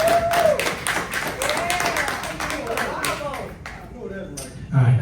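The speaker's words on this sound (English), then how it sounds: "Clap on that." An audience claps through a steady run of applause, with voices talking alongside it before the clapping thins out near the end.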